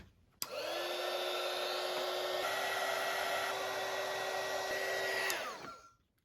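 A heat gun shrinks heat shrink tubing on a battery cable for an FJ Cruiser terminal: a click, then a steady whirring blower roar for about five seconds, another click and a falling spin-down, close and loud with no talk.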